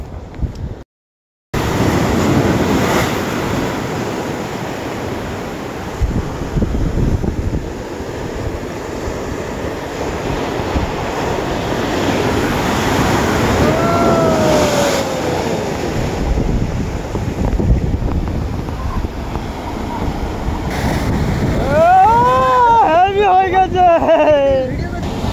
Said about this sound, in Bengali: ওয়েদার খারাপের জন্য সমুদ্রে বিশাল ঢেউ, আর প্রচুর ঢেউ হচ্ছে